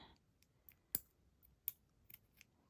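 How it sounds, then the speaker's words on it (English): Scissors snip through elastic cord for a beaded bracelet in a few sharp, close clicks, one distinctly stronger than the rest, separated by near silence. "Cut the elastic."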